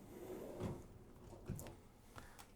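A metal tool chest drawer holding camera gear slides, with soft low thumps and rolling scrapes repeating at close range in a quiet room, no talking.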